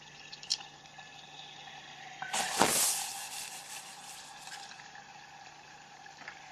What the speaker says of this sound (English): It sounds like it's bubbling away, but that's just because the egg is so much warmer than the nitrogen